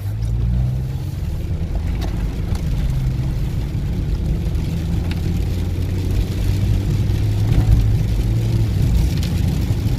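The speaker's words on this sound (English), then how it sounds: "let's go out for a drive and see how it behaves" A Toyota Yaris with an automatic transmission drives along, its engine and road noise a loud, steady low rumble heard from inside the car, with no distinct gear shifts standing out.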